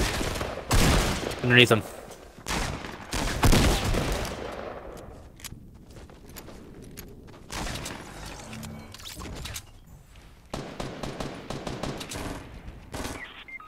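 Fortnite gunfire in a squad fight near a brick house: rapid bursts of loud shots in the first few seconds, then sparser scattered cracks and a renewed volley near the end, with a voice briefly talking over the shooting.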